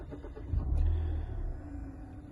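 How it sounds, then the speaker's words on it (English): A Mazda2 1.5 Skyactiv-G mild-hybrid hatchback fires up by push button, giving a short low crank and a brief engine swell that settles into a steady close idle rumble. "If I start the car up, so start with just push to start, foot on the clutch pedal, push the start button there."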